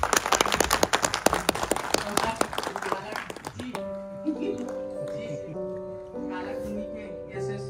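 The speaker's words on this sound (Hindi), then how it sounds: "एक बार ताली बजा दीजिए" A crowd claps for about four seconds at a public event launching a free gas refill scheme in Nainital, a dense patter of applause that fades out as a voice begins talking over an amplified hum.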